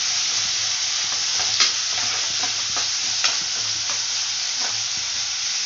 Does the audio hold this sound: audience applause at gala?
no